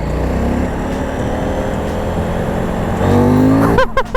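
A Husqvarna Vitpilen 801 motorcycle runs under a rider, a loud continuous engine drone that rises in pitch near the end, with a few short sharp tones at the close.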